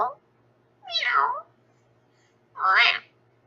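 A person vocally imitates a cat, giving two drawn-out meows close to the mic with a short pause between them.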